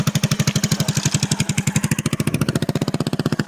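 A motorcycle engine chugs close by in a steady rapid pulse, loud and rhythmic, shifting slightly in tone as it moves past.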